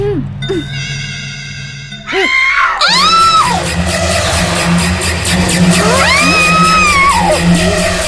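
A woman screams loudly in a Hindi-dubbed horror thriller scene, with long rising and falling shrieks that continue over a noisy, dense background after a brief quieter opening of tones.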